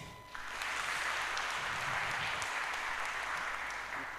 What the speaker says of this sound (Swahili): Situshukuru Bwana kwa makofi.